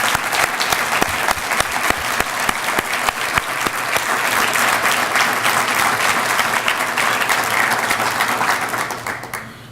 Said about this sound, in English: but let's give him a round of applause.